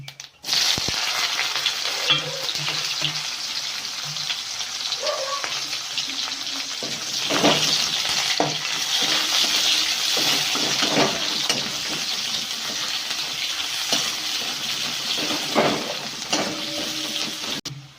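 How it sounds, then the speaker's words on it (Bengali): Chopped onion hits hot mustard oil already holding dried chillies and cumin, giving a loud, continuous sizzle with occasional stirring scrapes close by, no voices. "এবার দিয়ে দিচ্ছি পেঁয়াজ কুচি"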